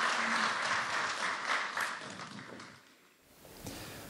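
Audience applause at a 2014 Lions volunteer service awards ceremony: a dense, continuous wash of many hands clapping that stays full for a couple of seconds, then thins and fades near the end.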